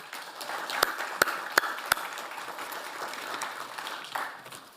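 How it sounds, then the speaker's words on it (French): A general assembly audience applauds the staff with a quiet, diffuse patter of claps, broken by four sharp, distinct claps in the first two seconds before the applause thins and fades. "on peut applaudir le personnel parce qu'ils l'ont mérité"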